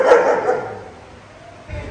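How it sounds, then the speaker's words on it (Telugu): German Shepherd police training dogs bark in a brief, fairly close burst at the start, then fade into a quieter background. "సో ఆ పోలీస్ డాగ్స్ మీకు చూపించాను కదా,"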